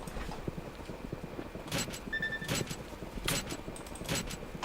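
Hooves clip-clopping in steady rhythm from horses in the video game Gallop Racer 2004, fairly faint, with a few brief bright chimes and jingles over the beat and no talk.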